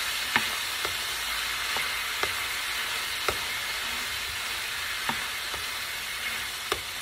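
Cream cooking in a pan for a shrimp dip, a steady bright sizzle with evenly spaced taps and scrapes of stirring, close and continuous, with nobody talking.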